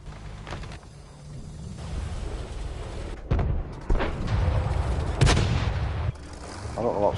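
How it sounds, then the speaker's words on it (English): Artillery shells striking tanks in World of Tanks, a series of heavy booming impacts and gunshots at irregular intervals over steady engine rumble, loud and close, with people talking between hits. "Seem to get peppered by artillery."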